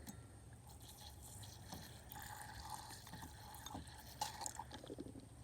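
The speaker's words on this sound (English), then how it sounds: "And I'm going to rinse it out again." Distilled water poured and swirled over refined gold in a glass container after stockpot refining to wash out remaining silver: faint, close trickling and dripping with small glassy clinks, steady and low under a soft background hiss.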